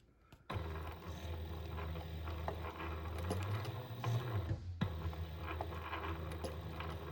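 A sewing machine stitches around a square on a nail set holder, running steadily and loudly with a continuous mechanical hum and rattle after a brief quiet start, with a short pause near the end.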